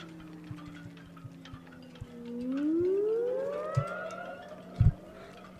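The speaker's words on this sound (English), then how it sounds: "Sounds like the horns on Iona." Deep horn blasts from the cruise ship Iona at the Port of Southampton, a long rising and falling tone heard from a distance over a steady low background hum, with a few short knocks near the end.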